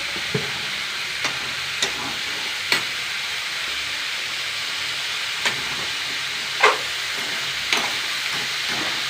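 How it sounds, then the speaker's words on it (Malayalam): Sliced snake gourd fries in a pan with a steady soft sizzle, while a spoon stirs it and scrapes against the pan in scattered sharp clinks and scrapes, no talking. "ഞാൻ ഇളക്കി യോജിപ്പിക്കട്ടെ അല്ലേ ഇളക്കി"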